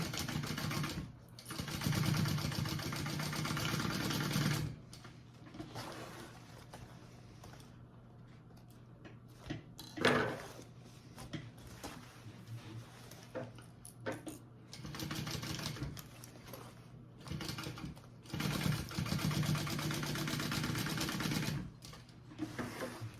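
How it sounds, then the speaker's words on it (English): A sewing machine stitches the boxed corners of a bag's fabric lining in bursts, its steady motor whir running several seconds at a time and broken by short pauses, close and fairly quiet, with no talking. "I'm gonna sew up my boxed corners, and then we'll put the two layers together."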